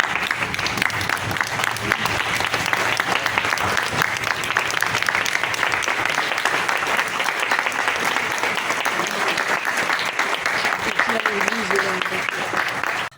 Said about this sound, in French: We will not welcome Dr. Fadel with a round of applause, but with a standing ovation.